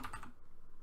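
Brief burst of computer keyboard typing as a Linux terminal command is entered, a few quick close keystrokes in quiet surroundings.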